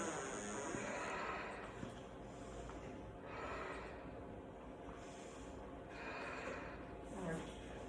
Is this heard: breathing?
yes